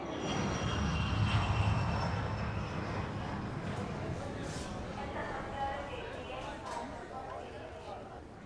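A passenger airplane's engines roar steadily during landing, a broad, loud rumble that slowly eases over several seconds with faint cabin noise around it.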